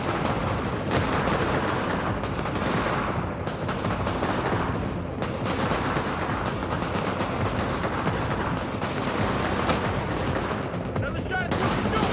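Gunfire in the shooter Tom Clancy's The Division, a dense run of repeated shots and bursts crackling steadily throughout the clip, with a voice talking faintly underneath.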